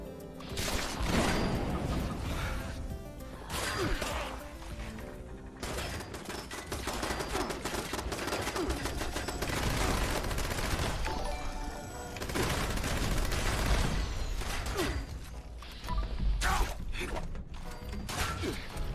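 Turret gunfire in the Fallout 76 control room, dense continuous rattling bursts with mechanical clatter filling the whole stretch, loud and close, briefly dipping around the middle.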